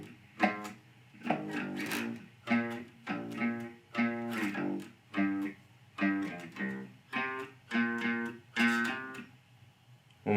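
A bass guitar plays a riff: a repeating run of about a dozen plucked, slightly gritty notes with hammer-ons, each ringing briefly before the next, played up close.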